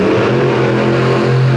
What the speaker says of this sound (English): Now Preston at the wheel of Toxic 1, the PEI chassis machine with the 540 cubic inch Kevin Stauffer engine in the back.